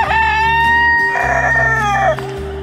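A rooster on a farm crows loudly and close by, with a drawn-out call. A steady low hum sits underneath, and other fowl cluck faintly in the background.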